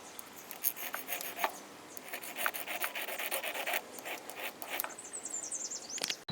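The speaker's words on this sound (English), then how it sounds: "take a file to the end of it, file it a little bit so the float will come up" A metal file rasps in quick, uneven strokes against the tip of a small carburetor needle valve from a Briggs lawn mower, close and moderately loud, with a brief chirpy squeak near the end.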